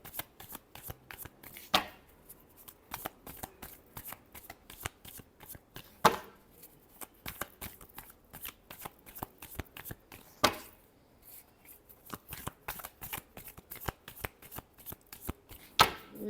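Tarot cards riffle in a long, close run of crisp shuffling, with a few louder slaps as the deck is squared, and no talk.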